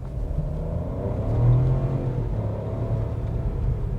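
A Chevrolet Tracker LT with a 1.0 turbo engine and automatic gearbox pulls away hard from a stop, its engine note rising steadily in pitch up to around 5,500 rpm before the first upshift, a close, continuous rumble with no voices.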